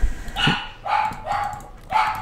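A dog barks about four times in short, evenly spaced yaps, fairly close and alone, with no talk over it.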